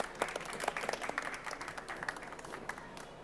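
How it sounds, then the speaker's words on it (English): Conference audience applause at a climate summit session, a few seconds of moderate clapping with distinct individual claps standing out, fairly close and steady throughout. "Let's give them a big clap."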